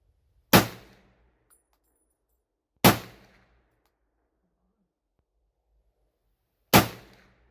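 Three loud, sharp M1 Garand rifle shots fired at clay targets 100 yards away outdoors, each a single crack with a short decaying echo, spaced irregularly with quiet gaps between.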